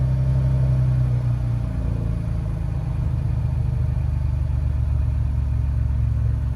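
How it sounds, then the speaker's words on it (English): Stock exhaust on a Ford Bronco idles with a steady, deep, close rumble, even and unbroken with no talk over it. "This is what the normal exhaust sounds like."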